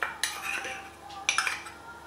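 A metal spoon clinks against small bowls while cocoa is measured out for a chocolate sheet cake, with several sharp close taps and scrapes in quick succession.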